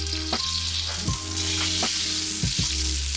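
Oil and butter sizzling in a frying pan before onions go in, a steady close hiss over a low persistent hum, with a few brief scraping knocks.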